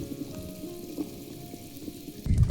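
Village chicken curry bubbles at a steady low boil in a clay pot over a wood fire. A soft, continuous burbling rises into a louder rush of bubbling at the very end.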